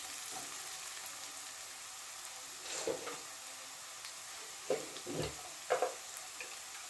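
Spices, green chilli, salt and homemade chili powder fry in a pan for street-style fried rice, giving a steady soft sizzle with a few brief stirring scrapes near the end.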